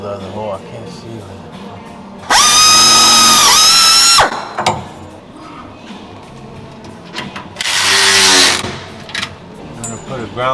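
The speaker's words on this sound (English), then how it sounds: "Drill the other hole." A power drill bores holes in an old 1950 Chevy pickup truck, two loud bursts of high whining spin separated by a pause, with someone talking in between.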